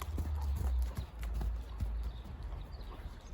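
A seven-year-old mare trots on the lunge, her hooves clip-clopping in a steady rhythm, faint and somewhat distant, with low rumbling background noise.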